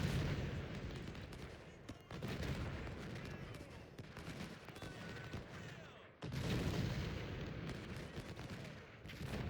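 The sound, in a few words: cannon artillery fire in Ultimate General: Civil War video game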